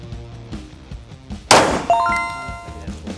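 A 9mm Rock Island Armory Tac Ultra 1911 pistol fires a sharp shot, followed by the bright ringing clang of steel plate targets struck at a shooting range, the metallic tones lingering and fading.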